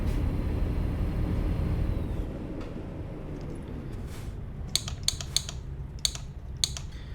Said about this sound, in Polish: nie wiem jak to będzie słychać, ale może być czasami to moje klikanie wkurzające.